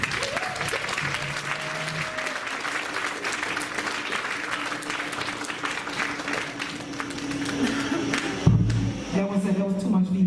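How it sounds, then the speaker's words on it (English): An audience claps steadily and warmly after a poem is performed at a spoken word and comedy event. The applause is dense and sustained, with faint voices and a brief thump near the end. "Y'all clap it up again for Mr. Edward B."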